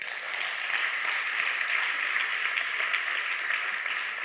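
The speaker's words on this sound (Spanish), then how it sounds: "Dar un aplauso al Rey." Sustained applause from a church congregation fills the room, a dense, steady wash of many hands clapping at even loudness throughout, with no talking over it.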